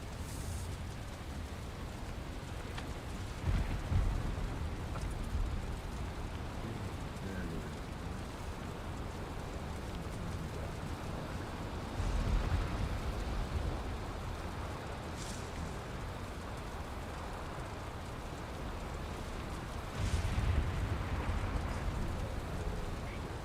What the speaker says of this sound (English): Nice thunder and rainstorm going over here by the house.